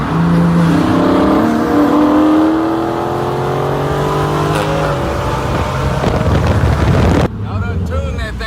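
A 2023 BMW M3 with a downpipe and full exhaust revs hard nearby, its engine note climbing loud and raspy, then cutting off abruptly with wind buffeting the microphone and voices underneath.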